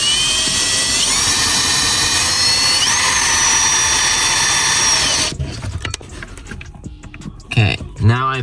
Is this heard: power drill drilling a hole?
yes